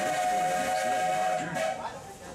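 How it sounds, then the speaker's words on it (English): A Walt Disney World Railroad steam train at the Magic Kingdom pulls into Main Street, USA station with a loud, sustained steam whistle tone and hiss that gradually fades, station announcements mixed in. "right now we're pulling into Main Street, USA"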